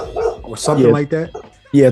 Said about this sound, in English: I don't know if you can hear my dog barking.